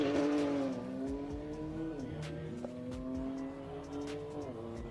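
A BMW M2 and an Audi TT RS drag racing down a no-prep strip, engines revving with harmonic tones that climb and drop through gear shifts, heard from a distance amid faint crowd noise.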